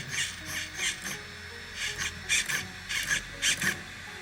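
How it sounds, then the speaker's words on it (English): The steering servo on an HNR Panther (FTX Stinger HN9802) RC car whirs in a string of short mechanical bursts, close and fairly loud, as the wheels turn back and forth. "The steering is turning, I believe the motor must be working."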